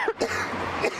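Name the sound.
person coughing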